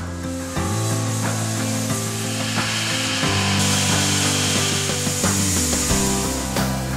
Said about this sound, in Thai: ทำให้ธีรยุทธ์เริ่มต้นใหม่กับงานในโรงเลื่อย